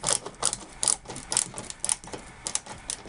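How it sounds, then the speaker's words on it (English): Colored screws being driven to fix a car headliner in a 1964–67 commercial split-window vehicle, giving a rapid, irregular series of close mechanical clicks and ratcheting taps, alone with no talking. "And then screw using your colored screws, and this is what is going to hold it permanently"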